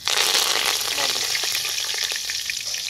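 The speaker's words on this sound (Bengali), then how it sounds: "কারি পাতা, এটাকে ভালো করে ভেজে নেবো।" Curry leaves crackle and spit in hot oil with dried chilli, bay leaf and cumin, a loud burst of bright sizzling that gradually settles into a steady frying hiss with small pops.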